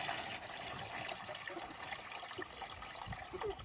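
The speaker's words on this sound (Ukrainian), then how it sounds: "Так, ще зараз водички свіжої налию." Fresh water poured into a container in a poultry shed, a steady splashing and trickling stream, close and moderately quiet, with no talking.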